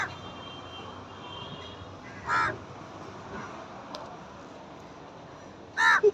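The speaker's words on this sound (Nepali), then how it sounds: "यताको कागलाई हेर्नु न।" Crows in a Nepali village setting caw in two short bursts, one near the middle and a louder, closer one at the end, over a steady outdoor background hiss with no talking.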